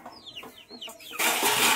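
Village chickens cluck and squawk in short, close calls for about a second, then a loud broadband rush of noise abruptly takes over.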